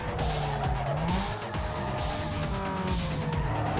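A Corsa driving in Need for Speed: Underground 2, its engine revving up and down through gear changes with tire squeal, loud and continuous.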